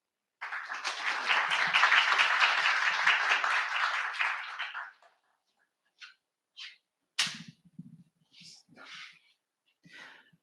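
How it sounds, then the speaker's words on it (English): A panel audience applauds tonight's speakers at a talk on U.S.-China relations, a dense burst of clapping for about four seconds that fades out, followed by a few scattered sharp sounds and a brief voice. "please give a round of applause to tonight's speakers"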